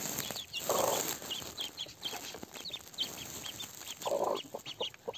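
Newly hatched Indian Runner ducklings peep in a steady stream of high, thin calls, with two louder broadband bursts standing out near the start and the end, all heard close by with no talking.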